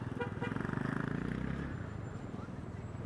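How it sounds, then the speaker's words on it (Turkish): Street traffic drones at a cold city intersection, steady engine rumble from passing cars with a sustained honk from a car horn in the first half, fairly distant and moderately quiet. "Baksanıza trafiğe bakın."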